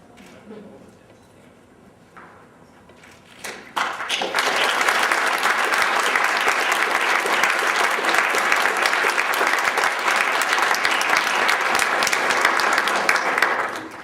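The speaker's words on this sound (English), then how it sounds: "They're clapping for you." Applause at a Zeta Beta Tau Eta Xi chapter chartering ceremony swells suddenly after a quiet stretch of low murmuring, then holds as sustained, dense clapping from a large crowd close by until the end.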